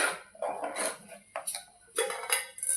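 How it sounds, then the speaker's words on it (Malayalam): Curry being stirred in a pan, a few short metallic clinks and scrapes of a spoon against the pot in uneven bursts, close but fairly quiet. "നന്നായി ഇളക്കി എടുക്കണം"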